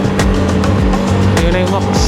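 A car engine on a night ride revs hard toward 6,000 RPM, loud and close, with the pitch climbing and falling through quick gear changes.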